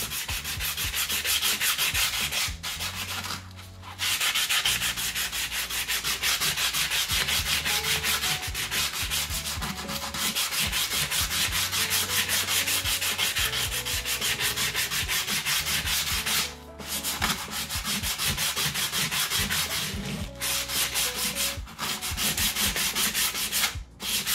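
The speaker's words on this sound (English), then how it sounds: "we're starting to get the brushed effect just with the sandpaper" Sandpaper rubbed by hand along an aluminum part from a Yamaha XS650 motorcycle to give a brushed finish, a loud, steady scraping in long continuous strokes broken by a few brief pauses, with no talking.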